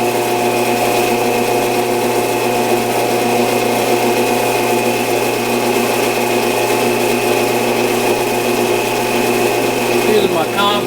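A metal lathe cuts with a high-speed steel tool fed in by the compound, giving a steady loud machine whine and hum, close and continuous with no break.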